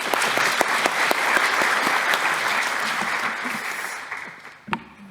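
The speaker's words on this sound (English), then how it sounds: "We could applaud, couldn't we?" Conference audience at a summit in Edinburgh applauds in a packed hall, steady close clapping that holds for several seconds and then fades out, ending with a brief knock or thump.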